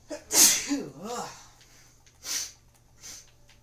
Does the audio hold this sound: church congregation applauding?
no